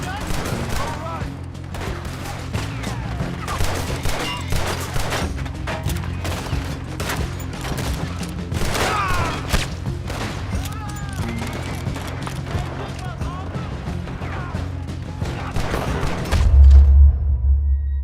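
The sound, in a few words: gunfire in a video game shootout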